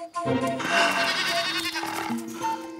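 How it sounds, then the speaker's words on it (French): An animated goat bleats several times in a cartoon forest scene, the calls loud and close over a music-filled background with no talk. "Une chèvre?"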